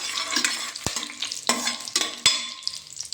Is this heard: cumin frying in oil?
yes